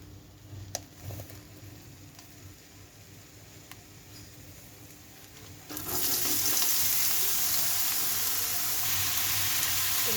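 Grated carrot and potato frying with turmeric, a quiet low sizzle that jumps abruptly to a loud, dense hissing sizzle midway and holds steady.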